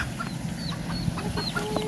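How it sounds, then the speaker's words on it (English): A chicken clucks repeatedly nearby, short nervous calls scattered over a steady outdoor background. "Oh, it's scared, eh? The chicken's worried."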